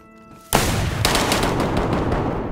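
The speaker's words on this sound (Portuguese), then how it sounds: "Eu atirei num canto, a bala foi no outro." Loud gunfire in the survival game DayZ on the Deer Isle map: one sharp shot starts a dense burst, and a second blast half a second later leads into a sustained, echoing rattle of shots.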